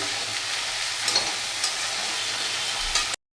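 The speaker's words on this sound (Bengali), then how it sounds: "সব সবজিগুলো একবারেই দিয়ে দেবো একটু ঢাকা দিয়ে দিয়ে একটু ভেজে নেবো সবজিটাকে" Mixed vegetables fry in a pan with a dense, even sizzling hiss that stays close and constant for about three seconds before cutting off abruptly.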